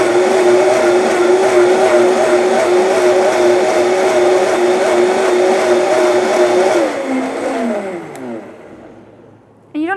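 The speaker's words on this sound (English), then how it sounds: "I like to blend my greens in there just because they're the most fibrous part" Countertop blender whirring as it purees fibrous leafy greens with mint for a green smoothie, a loud steady motor drone for about seven seconds, then winding down in pitch and fading before a brief clunk at the end.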